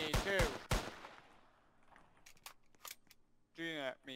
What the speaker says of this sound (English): He's shooting at me too.